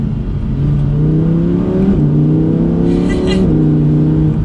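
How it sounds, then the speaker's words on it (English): A 2021 Audi R8 V10 RWD's engine revs and drops through quick paddle-shift gear changes, a throaty V10 exhaust note rising in pitch, then cutting back before climbing again. "It still has that V10 exhaust"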